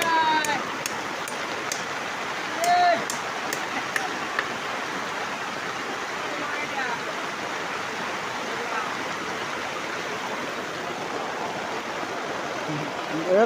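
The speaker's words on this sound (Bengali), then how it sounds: "এত বৃষ্টির মধ্যে কি করে কাজ হবে?" Heavy rain pours down in a dense, even roar that continues throughout. A few faint high tones and a brief voice come through early, under the downpour.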